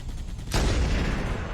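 A single sharp sniper rifle shot in Halo: Combat Evolved cracks out after a quiet moment, followed by a lingering broadband tail and rumble, moderately loud with no talk.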